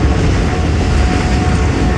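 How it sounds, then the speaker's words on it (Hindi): A train rushing past Sangla Hill junction at high speed, heard as a loud, dense, continuous roar of wheels and wind that stays steady throughout the short stretch. "और बड़ी तूफ़ानी रफ्तार से ट्रेन हमारी पास हो रही है सांगला हिल्स जंक्शन से"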